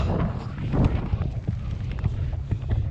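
Wind on the drizzly Catbells summit rumbles and buffets the microphone in low, uneven gusts, moderately loud with no talk.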